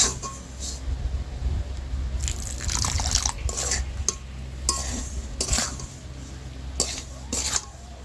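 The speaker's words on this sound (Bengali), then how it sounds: "একটু অল্প অল্প করে জলটা দেবো, যেহেতু এটাকে একটা ডো বানাবো।" Water added a little at a time to semolina in a pot while cooking, with soft dripping, stirring scrapes and clinks of utensils in irregular bursts over a low background hum, and a voice talking at times.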